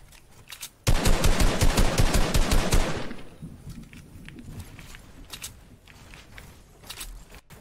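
Rapid automatic gunfire in Fortnite, a loud close burst of about a dozen evenly spaced shots lasting roughly two seconds, followed by quieter scattered distant pops and rustling.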